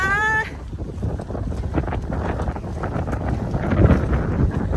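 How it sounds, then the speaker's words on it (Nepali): Strong wind buffeting the microphone outdoors on a dirt road, a continuous loud roaring rush that swells and dips, preceded by a short tonal whine at the very start. "हावा त मस्त चलिरह।"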